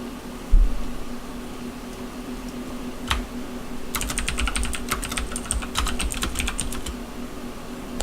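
Keys tapped on a computer keyboard while a password is entered, first a few isolated clicks, then a quick burst of close, crisp keystrokes over a steady low hum.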